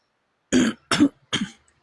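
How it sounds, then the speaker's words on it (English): Three short, harsh coughs in quick succession, close and fairly loud, separated by brief silences. "The coughing is probably happening because we got the implant out."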